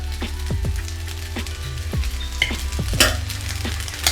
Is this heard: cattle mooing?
no